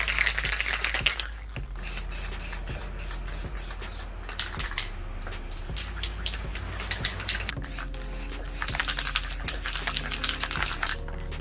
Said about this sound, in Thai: เดี๋ยวเราจะมาพ่นรอบที่ 3 ซึ่งเป็นรอบสุดท้ายครับ